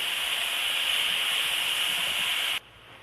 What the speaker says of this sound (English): I'm going to add my minced garlic and I'm going to saute this for about another 2 minutes